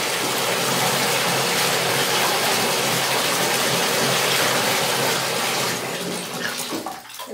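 Water gushes and splashes continuously as it is poured over a dog in a bathtub close by, a steady pouring rush that eases off toward the end.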